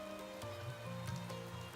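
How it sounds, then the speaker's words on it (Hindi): Heavy rain pours steadily in a broad, even wash, with wind rising around it, close and continuous with no voices over it. "अचानक तेज हवा चली और बारिश पहले से भी ज्यादा तेज हो गई।"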